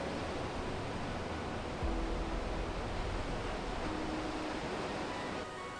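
Ocean waves breaking at Huntington Beach, a steady broadband wash of surf with a slight swell partway through, distant and continuous with no voices.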